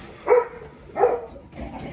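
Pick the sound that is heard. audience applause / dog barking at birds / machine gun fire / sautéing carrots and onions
dog barking at birds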